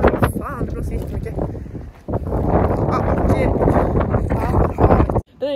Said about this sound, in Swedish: det blåser jättemycket